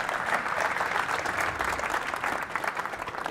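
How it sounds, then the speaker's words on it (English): Steady, dense applause from an audience fills the hall at a boat show premiere of the BRABUS Marine Shadow 1200 XT during an Axopar press event at boot 2025, continuous clapping with no pauses. "Give them a big round of applause"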